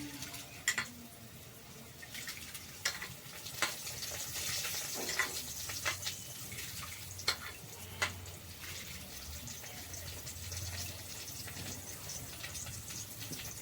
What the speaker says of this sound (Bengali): তো চলো আমি চালটা ধুয়ে দিয়ে নিই হাঁড়িতে